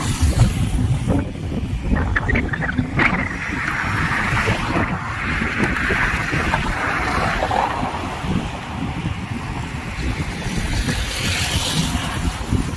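Sea waves wash onto Kovalam beach where boats come and go, a continuous surf roar mixed with heavy wind buffeting the microphone and no voices.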